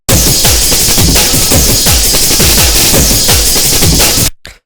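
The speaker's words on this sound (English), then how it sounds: "So it's basically some blown out breakbeats." Heavily distorted breakbeat drums pound in a fast, dense loop, kicks and snares crushed into harsh, saturated noise, loud throughout before cutting off abruptly.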